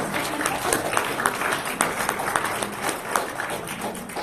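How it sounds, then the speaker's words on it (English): A church congregation gives a steady round of applause, dense overlapping claps sustained throughout at moderate distance, with a few voices mixed in. "we'll give them a little round of applause"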